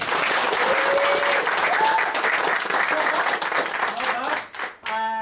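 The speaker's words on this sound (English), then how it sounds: "On the count of 3, everyone claps together." An audience at a comedy mind-reading stage show claps together on a count of three, a loud, sustained burst of applause that fades out near the end.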